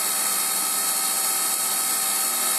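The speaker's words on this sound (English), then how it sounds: "The outside radius cut I said you'd see." An Emco Compact 5 CNC lathe cuts an outside radius, giving a steady, bright machining whine at a constant level, close and alone with no talk.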